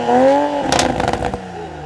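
A 3-litre BMW Z4 roadster engine cranks and catches, then revs in a few sharp, crackly bursts before settling to a steady idle, loud and close with no talking.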